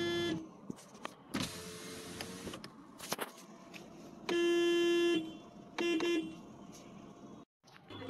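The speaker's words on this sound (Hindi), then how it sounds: "ये इसकी हॉर्न की साउंड" A Citroen C3 car horn honks: a short toot, a longer steady blast, then two quick toots, with clicks and a whirring motor between them.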